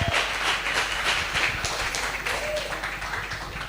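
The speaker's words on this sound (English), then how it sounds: "big round of applause for Coach Louis" Audience at a fight league press conference applauding a coach, a steady wash of clapping with some murmured voices, a little distant and holding at an even level.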